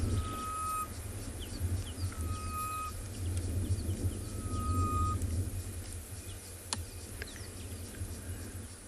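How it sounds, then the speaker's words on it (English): A bird calling during a sunset safari at Tswalu, clear whistled notes repeating several times at moderate distance over a low steady vehicle rumble. "A beautiful, beautiful bird."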